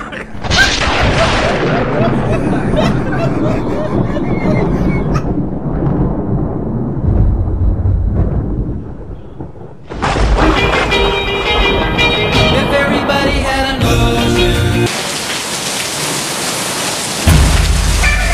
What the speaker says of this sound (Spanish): Viene una tormenta terrible